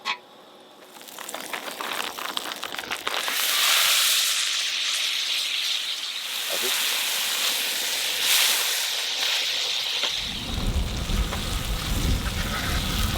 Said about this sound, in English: all that steam is getting it all cooked